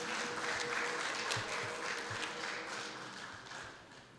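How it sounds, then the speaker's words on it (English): An audience claps for three senators at a formal talk, a dense, fairly distant wash of applause that gradually thins and fades over a few seconds. "Please give a round of applause to all three senators."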